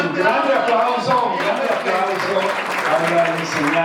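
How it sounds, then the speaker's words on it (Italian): At a 30th-anniversary celebration of the Circolo Navarca, the audience applauds a teacher, with a moderate wash of clapping mixed with voices talking over it. "Allora un grande applauso"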